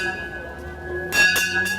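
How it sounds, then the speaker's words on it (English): A morning school bell at a preparatory academy rings out at the start of the school day, bright repeated strikes arriving in the second half after a quieter hum, with faint voices nearby. "When the morning bell rings at Gompers Preparatory Academy for the start of school"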